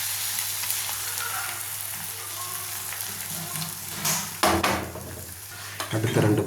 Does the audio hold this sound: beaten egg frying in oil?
yes